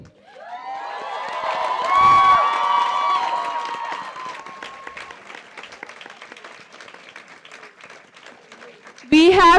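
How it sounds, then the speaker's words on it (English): Applause and cheering for the graduating class of 2017 at a convocation ceremony, rising under loud ringing shouts and whoops, then continuing as rapid clapping that fades before a sudden loud burst at the end. "a big round of applause for the graduating class of 2017"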